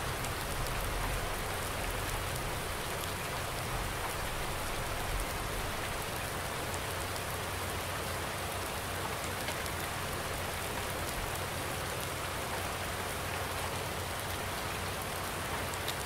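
Rain falls steadily in the Farming Simulator 19 video game, a dense, even hiss of drops hitting surfaces, constant and unbroken with no talking.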